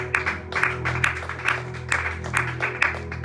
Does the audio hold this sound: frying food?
no